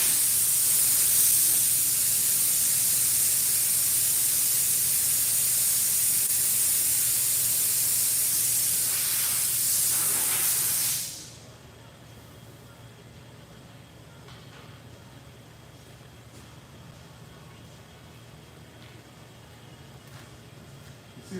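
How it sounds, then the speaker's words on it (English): Air rushes out of a car tyre's valve stem with the core removed, a loud steady hiss that runs for about ten seconds and then cuts off abruptly, leaving quiet background. "you can put it in when you got all the air shooting out"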